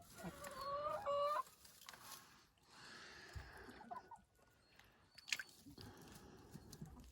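Lohmann White laying hens cluck close by in a coop, with a burst of sharp, rising calls at the start, then scattered softer clucks and pecking noises.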